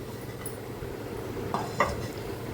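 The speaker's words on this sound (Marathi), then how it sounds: "अंडी उकडायला ठेवते झाकण ठेवून घेते वरती" A metal lid set onto a pot of eggs on a lit gas stove, a couple of short clinks over a steady low burner hum, close by.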